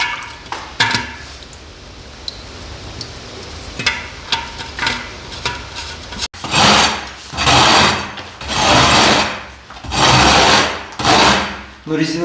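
A rake scrapes the rubber floor of a poultry house; a few scattered taps and light scuffs give way to about six loud, rhythmic rasping strokes close by.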